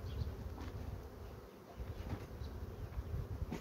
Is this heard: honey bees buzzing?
yes